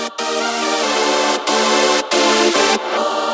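A melodic death metal synth bus drenched in epic reverb with automated 3D balance plays loud, bright sustained chords in four long blocks separated by brief gaps. No bass and no voices.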